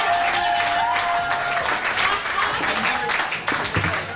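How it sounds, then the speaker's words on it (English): An audience at a poetry slam claps warmly as poets come onto the stage, a continuous wash of applause with some crowd noise mixed in. "give them another warm round of applause for everybody coming up here"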